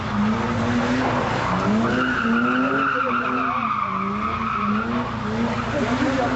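Car tires skid and squeal loudly and continuously, a sustained screeching whine with wavering pitch over engine roar.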